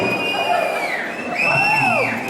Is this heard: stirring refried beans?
no